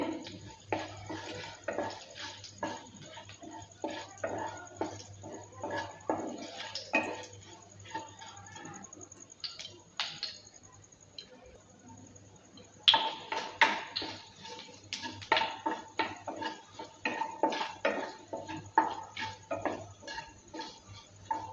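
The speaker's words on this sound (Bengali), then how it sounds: "পাঁচফোড়নটা দেওয়ার পর ভালো করে আবারও নেড়ে চেড়ে নিচ্ছি" Cabbage with half a spoon of five-spice seeds being stirred in a frying pan, a steady light sizzle under repeated scraping and clinking of the spoon against the pan, busier in the second half.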